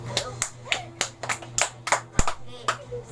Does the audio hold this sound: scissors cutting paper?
no